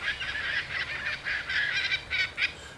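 Gulls calling around a house, a run of loud honking cries repeating in quick bursts nearby with no talk.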